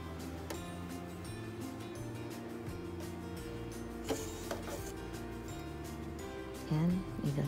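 A cover stitch sewing machine runs steadily while stitching a hem, a continuous close mechanical whir with a brief louder burst near the end.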